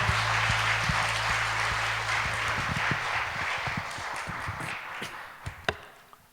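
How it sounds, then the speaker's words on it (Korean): A church congregation applauds at a Friday prayer service, a broad wash of clapping with a low hum at first, thinning into scattered individual claps toward the end. "우리 그분께 한 번 더 박수로 영광을 올려드리십시다"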